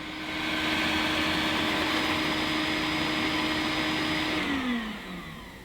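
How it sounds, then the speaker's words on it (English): A Eufy E20 robotic vacuum cleaner hums at a steady, fairly loud motor whine as it heads back to its dock. Near the end the tone drops in pitch and the noise eases off. "I think now it's finished and it's going back to dock."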